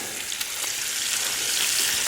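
Bacon-wrapped fillets sizzle over campfire coals, a soft, steady crackling fry heard close and alone.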